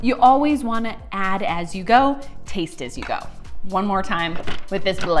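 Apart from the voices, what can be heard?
None of the usual background noises is heard.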